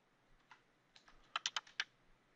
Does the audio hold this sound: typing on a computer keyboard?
yes